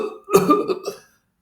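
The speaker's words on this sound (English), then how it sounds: "I started to cough a little" One person gives a short burst of close coughing, a rough voiced hack breaking into a couple of quick pulses before trailing into silence.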